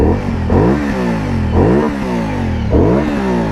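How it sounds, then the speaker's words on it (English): A 2018 Aprilia Dorsoduro 900 motorcycle with its stock exhaust revs hard three times, the twin's engine note rising and falling in repeated blips. It is close and loud, with no voices. "there's a good sound there, but it's hideously muffled with these stock compliant exhausts"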